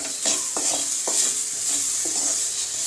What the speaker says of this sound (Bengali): এবার এটাকে ভালো করে আমি কষিয়ে নিয়ে এর মধ্যে জল দিলাম।